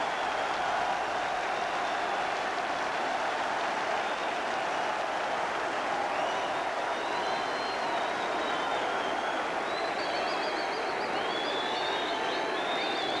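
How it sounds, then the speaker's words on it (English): Leeds United supporters applauding at a football match, a sustained wash of distant crowd clapping and stadium noise that stays even throughout, with faint whistles and cheers rising near the end. "Applause from the Leeds supporters"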